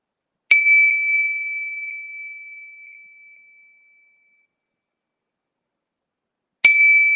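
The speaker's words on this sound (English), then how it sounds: "Just ring the bells." Two bright bell dings, the first ringing out and slowly fading over several seconds, a second strike arriving after a pause.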